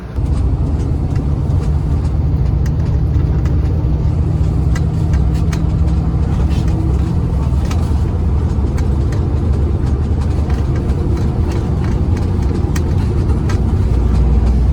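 Interior of a Sumber Waras bus driving toward the Merak ferry port, a loud steady engine drone and road rumble lasting throughout without pause.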